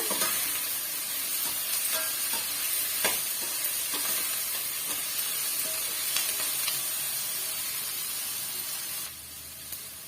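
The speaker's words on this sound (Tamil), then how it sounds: "வெங்காயம் சீக்கிரமாக நல்லா வதங்கி வந்துடும்" Onions sizzle and hiss steadily in a hot pan, with occasional stirring scrapes and crackles.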